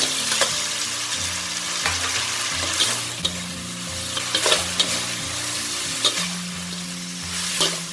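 Fish pieces coated in sauce are stir-fried in a hot pan, with a loud steady sizzle and repeated clattering spatula strokes.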